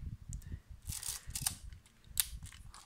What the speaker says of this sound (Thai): อันนี้เป็นตัวล็อกชัตเตอร์นะครับก็ขึ้นฟิล์มแล้วมันจะกดไม่ได้นะถ้าปลดล็อกก็กดได้ปุ๊บ